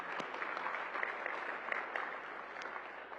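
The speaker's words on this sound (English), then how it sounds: "Let's give a big round of applause." Audience applause at a hospitality and tourism summit, a steady wash of clapping that runs through the whole stretch at moderate, even loudness with no voices on top.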